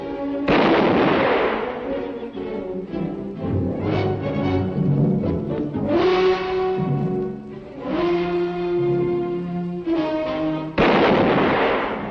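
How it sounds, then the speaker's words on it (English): Gunfire in a western film, a series of loud, close, sharp bangs spaced across the scene with ringing tails between them, with no talk over them. "I had to shoot him."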